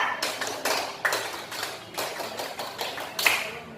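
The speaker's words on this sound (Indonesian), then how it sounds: "Atau nggak kita tepuk pramuka dulu? Tepuk pramuka." A school class claps the rhythmic Scout clap (tepuk pramuka), sounding as a series of sharp, patterned group claps in quick bursts with short pauses between them, close and fairly loud.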